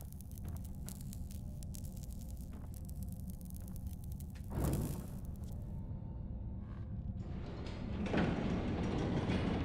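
A train in the video game Enderal starts up: a steady low mechanical rumble, a brief clunking burst partway through, then a louder, rising run of machinery toward the end, with no voices.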